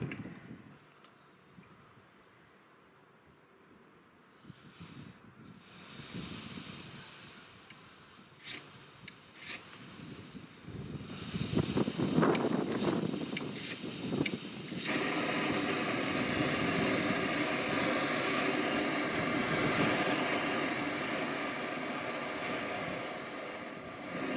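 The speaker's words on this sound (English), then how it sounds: "So I've got my my little gas stove here, which I'm just going to light." A small portable gas stove is lit, and its steady burner roar rises and holds as a broad, constant hiss close by, with a few clicks and handling knocks beforehand.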